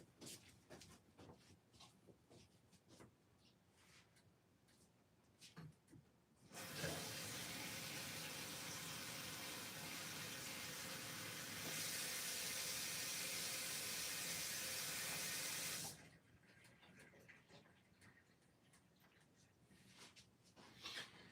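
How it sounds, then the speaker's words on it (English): A paint brush is rinsed under a running tap at a work sink, a loud steady gush of water lasting about nine seconds, with quieter room sounds and faint clatter before and after. "I am going to wash this brush out really quick."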